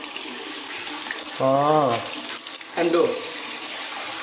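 Water runs from a tap in short bursts during ablution washing, a close splashing flow that starts and stops twice while a person speaks briefly over it.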